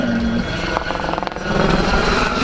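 A helicopter flying a display at the Cholet 2022 helicopter air show, pulling to a tail-down stop before moving forward: a loud, continuous rotor and turbine roar that holds steady and close throughout.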